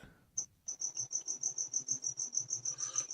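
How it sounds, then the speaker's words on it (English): Springtime crickets chirp in a steady, rapid pulsing series, each chirp a bright high trill repeating evenly and fairly close, with no voices over it. "The crickets are out."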